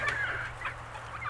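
Homestead chicken hens clucking and fowl calls close by, a short run of bright calls over a steady low background hum.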